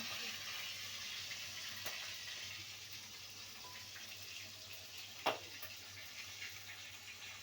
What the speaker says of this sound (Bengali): কচু শাক এই যে সিদ্ধ হয়ে গেছে, এই যে এই জলটা ঝরানো হচ্ছে, এই জলটা ঝরিয়ে দেওয়া হচ্ছে।